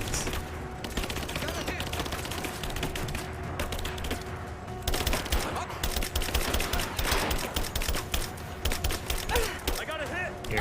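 Rapid bursts of gunfire from the Tomb Raider video game crackle and rattle throughout, growing denser and louder in the second half, with talk from players mixed in.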